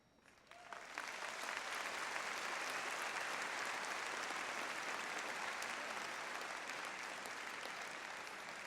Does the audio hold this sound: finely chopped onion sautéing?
no